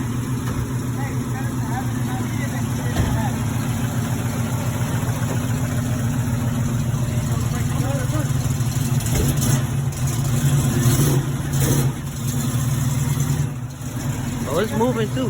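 A 1972 Chevrolet Impala donk with its engine running, a steady low idle rumble that swells slightly midway, heard close with people talking over it.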